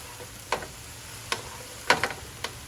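Fried rice cooks in a pan over medium heat with a faint, steady sizzle, broken by a few sharp ticks and scrapes from stirring.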